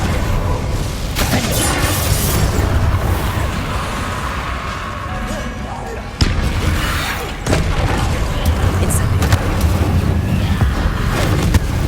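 A fire spell cast in the video game Hogwarts Legacy fills the scene with a loud, continuous roaring whoosh, with sharper bursts flaring up partway through.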